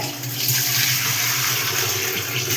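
Raw fish is washed under running water, a steady close rush of tap water splashing into a sink for the whole stretch.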